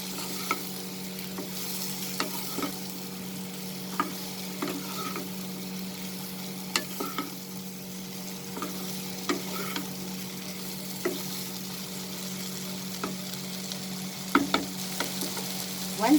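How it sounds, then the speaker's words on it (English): Long beans and potatoes with spices are stirred in a pan over a lowered flame, with a steady low sizzle and scattered scraping taps of the spoon throughout, no talking. "Mix it with the potato and the spices."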